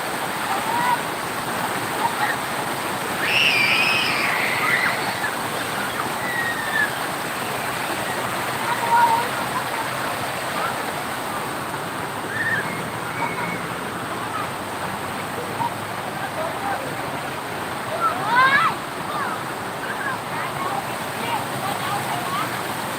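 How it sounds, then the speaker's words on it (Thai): Heavy rain falling: a continuous broad hiss of steady downpour fills the whole stretch, with a few faint bird-like chirps above it and someone talking now and then. "มีฝนเริ่มตกมาอีกแล้วครับ"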